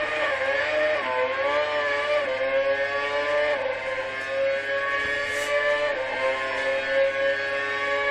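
A Formula 1 car in a racing video game at the Korean Grand Prix circuit in Yeongam, flat out at full throttle: a loud, sustained high-pitched engine scream that climbs through several gear shifts, alone without talk.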